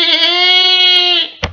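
A human voice mimics a goat's bleat in one sustained, bright, bleating cry up close, cut off sharply and followed by a short thud.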